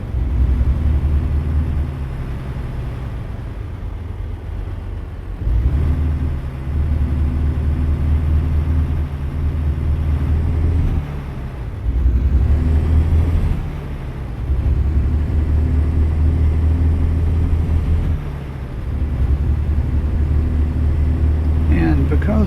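A heavy truck engine in American Truck Simulator, an unmodified rig driving in Arkansas, drones with a steady low rumble that holds loud and close throughout, briefly dipping and surging with gear changes and throttle.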